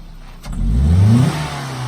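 Toyota Echo engine after a Seafoam treatment, revved once in a throttle response test, rising from idle to a loud, close rev and settling back to a steady idle.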